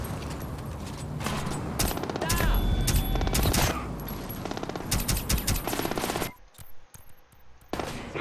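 Gunfire in the stealth video game Splinter Cell Blacklist: rapid automatic bursts and overlapping shots rattle loudly for about six seconds, then thin to a few sparse, quieter shots.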